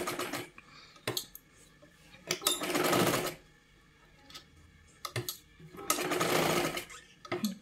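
A sewing machine stitches a size 36 katori blouse in two quick close bursts of rapid mechanical whirring, with light clicks and handling noises between them.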